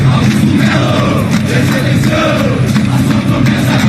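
Corinthians football supporters chanting at the club president, a dense roaring crowd in a stadium singing and yelling in unison, loud and sustained without pause.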